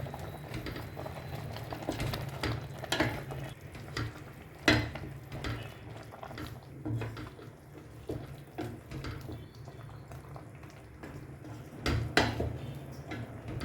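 Chicken stew with coconut milk, pepper and garam masala stirred in a pot, soft bubbling and wet scraping with occasional clinks of the spoon on the pot, quiet and close.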